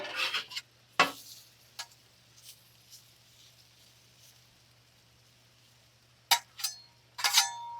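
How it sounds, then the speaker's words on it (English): Peppers and potatoes get flipped and moved around on a griddle over a Masterbuilt Gravity Series grill, producing scattered metallic scrapes and clinks of a spatula between quieter stretches over a low steady hum. "flip these peppers around as well"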